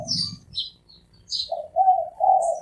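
A wild dove coos in the Khao Yai forest with several soft, low, hollow notes close by, while higher chirps from other birds sound intermittently around it.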